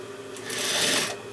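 A sewing machine runs in one short burst while stitching a fabric collar, its motor whir rising quickly, holding briefly and then stopping, close and clear.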